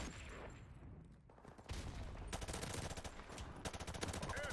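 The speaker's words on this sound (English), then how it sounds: "There's my airstrike." Airstrike called in during a free-for-all match of the video game Call of Duty 4: Modern Warfare Remastered, with loud, dense bursts of rapid gunfire and heavy impacts building midway and continuing to the end.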